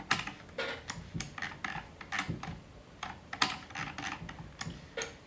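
Quick runs of close, crisp clicks on a desk, keyboard or mouse, while switching a crypto price chart to the 15-minute view, irregular bursts with short pauses and no talk.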